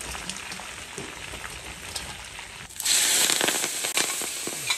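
Spanish mackerel frying in hot oil: a steady crackling fizz that suddenly grows much louder and denser midway as pieces hit the oil, with rapid popping spatters, close by.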